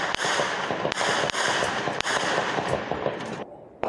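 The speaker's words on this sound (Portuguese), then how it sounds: "Desde já de 4:30 da manhã, é intensa a troca de tiros." Gunfire exchange in the hillside favelas of Rio de Janeiro's North Zone at dawn, a series of sharp, loud cracking shots at irregular intervals, some single and some in quick clusters, over a noisy background.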